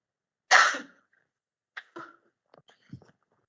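One sharp cough followed by a few softer, shorter coughs and throat sounds, close and isolated in an otherwise quiet room.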